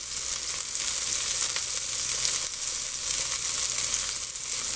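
Large scallops searing in a hot pan give a steady, close and fairly loud sizzle with no pauses and no voices.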